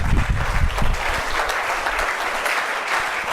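A church congregation applauds steadily, a dense wash of clapping from many hands that rises early and holds to the end, fairly close and full.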